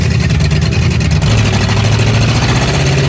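Junkyard big-block V8 swapped into a Suzuki Samurai revving hard, a loud, rough, continuous engine roar that climbs in pitch partway through, close up.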